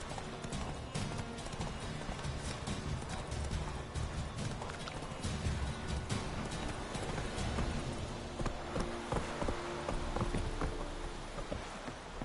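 Roach, a horse in The Witcher video game, gallops with steady, continuous hoofbeat clip-clops throughout, mixed with game ambience and a faint rain-like wash, close and fairly loud with no talk.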